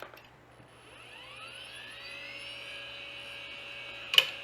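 A giant PC hard drive of around 4,000 RPM spinning up, a whine climbing steadily in pitch and settling into a sustained tone over low hum, with a short sharp click near the end.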